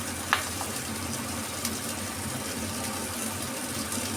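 Cauliflower and fried potatoes sizzling in a pan for a Bengali vegetarian navratan dish, a steady soft frying hiss with a couple of faint clicks, heard alone without talk.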